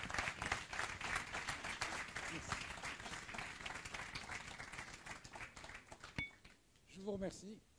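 Conference audience applauds as an opening speaker on leadership comes forward, sustained clapping from many hands filling most of the stretch before thinning out, with a voice emerging faintly near the end.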